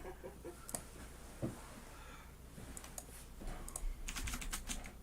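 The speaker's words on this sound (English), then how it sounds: "I try to type quiet. There's no such thing as typing quieter." Quiet computer keyboard typing in a room, a soft, irregular patter of keystrokes with occasional sharper clacks, steady low background hum and no talk.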